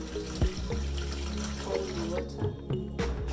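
Cold water runs from a kitchen tap into a sink, a steady splashing stream with a few clinks and bumps, at moderate close range.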